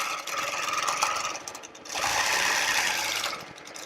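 Sewing machine stitching a quilt's arc border, a fast steady mechanical whir and clatter of the needle running close up, briefly slowing before speeding again, with no talk.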